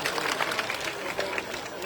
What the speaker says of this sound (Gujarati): આ તમામ લોકોને તાળીઓના ગણગણાટથી આપણે વધારીએ છીએ.